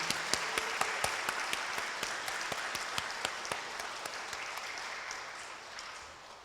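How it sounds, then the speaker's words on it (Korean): A congregation at a Sunday church service claps in a scattered, distant round of applause, individual claps audible and slowly fading toward the end. "박수로 한번 격려해 드리겠습니다."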